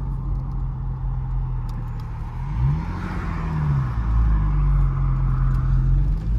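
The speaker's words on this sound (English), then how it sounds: "listen to that exhaust, the little burbles and pops" A 2013 Porsche 911 S idles and revs nearby, its steady exhaust drone rising in pitch once and then settling into a deeper, louder roar, with faint burbling texture.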